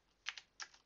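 A few quick keystrokes on a Mac computer keyboard, two short clusters of soft clicks close by and faint, with no talking.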